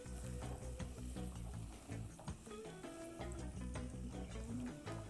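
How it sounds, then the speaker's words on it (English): Chopped celery being stirred in hot butter or oil in a pan, a steady close sizzle with scraping stir sounds running throughout, alone without talk. "I'm going to add my cup of celery to that. Stir it around in there, get it coated with that butter or oil"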